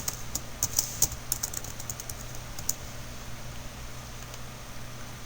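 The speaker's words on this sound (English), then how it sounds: "and then type in your login information." Login details being typed on a computer keyboard give a quick, close burst of key clicks over the first few seconds, then only a quiet hum remains.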